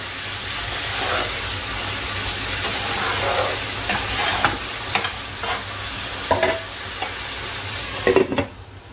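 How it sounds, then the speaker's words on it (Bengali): Mutton being sautéed in a pot for Bengali curry, stirred with a spoon: a steady close sizzle under repeated scraping strokes against the pot, the last few louder and sharper, with no talking. "মাংসটাকে ঢাকা খুলে আমি একটু নাড়াচাড়া করে দিলাম।"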